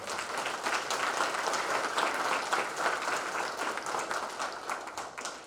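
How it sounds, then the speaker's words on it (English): Dense, steady applause from a convention audience honoring an award recipient, many hands clapping together in an even roar that holds for several seconds before easing slightly. "Let's give him a round of applause."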